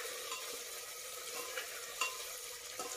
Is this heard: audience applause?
no